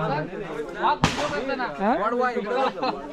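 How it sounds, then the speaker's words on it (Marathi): A firecracker set off by kids during the Waghbarshi festival in a Konkan village at Kondye, Sangameshwar, gives one sharp, loud bang midway through while people keep talking close by. "तर इकडे पोरं वाजत आहेत फटाके"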